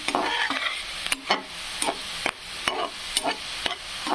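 Onions frying in a pan, turning reddish-brown, with a continuous sizzle broken by repeated sharp scrapes and clacks of stirring, loud and close, no voices.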